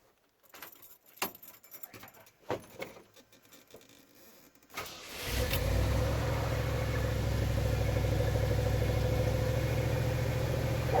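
Hot rod car with a battery charger hooked up: a few seconds of key jingling and clicks, then the engine cranks into a loud, steady drone that carries on to the end.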